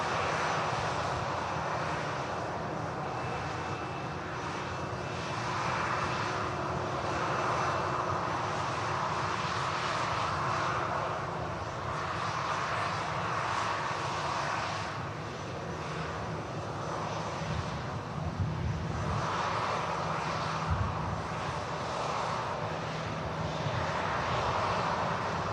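Jet aircraft engines roar steadily at Manchester Airport's runway, a broad continuous rumble that swells and eases over about twenty-five seconds, heard from some distance with no voices.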